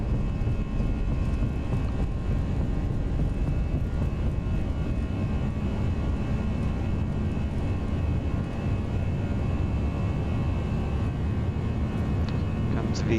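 Jet engines of an Airbus A320 hold takeoff power in the X-Plane 11 flight simulator, a loud continuous low roar with a steady broadband rush and faint whine that never lets up.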